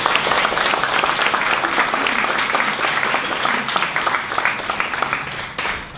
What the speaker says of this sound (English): I like the way you're keeping it fair with the applause.